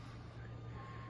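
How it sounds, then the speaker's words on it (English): A garbage truck in Taiwan plays its music at a distance, heard as a faint, steady melodic tone under a low constant hum, with no talk during the moment. "I'll speak louder, and you could probably hear the garbage truck"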